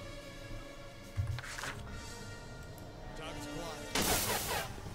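Two separate gunshots crack out in the turn-based tactics game Achtung! Cthulhu Tactics, a short thud and then a louder, broader blast, over a steady low background hum.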